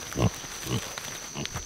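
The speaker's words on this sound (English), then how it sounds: "Come on, pigs. Come on." Pigs grunting outdoors on a rural property, a few short, low grunts spaced irregularly, faint and close, with a steady faint whine in the background.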